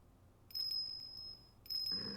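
A small bell on a dog's neck in the game Ace Attorney Investigations 2, two bright tinkling rings separated by a short pause, clear and fairly quiet against near silence.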